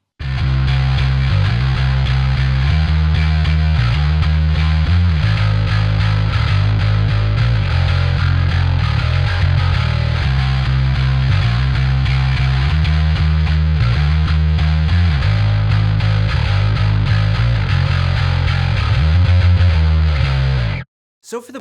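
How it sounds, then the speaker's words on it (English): Distorted metal bass guitar tone through a Parallax X hard rock and metal bass plugin, a loud, dense, continuous riff with steady rhythmic low notes throughout, played alone with no talking. "this is probably the best hard rock slash metal plugin for bass there is out there right now"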